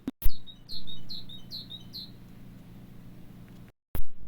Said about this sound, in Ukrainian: це малята синичка